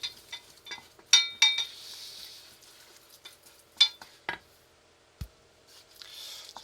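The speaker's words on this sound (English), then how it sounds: "So just keep adding more milk and stirring it quite vigorously." Milk is stirred into a lasagne sauce in a pan, a spoon knocking and scraping the pan in scattered clinks and short scrapes with quiet pauses between, close and fairly soft.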